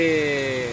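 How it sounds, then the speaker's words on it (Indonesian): Steady rain falls outdoors at a party cadre gathering, an even wash of patter lasting under a second with a faint steady hum running beneath it. "Hujan terus."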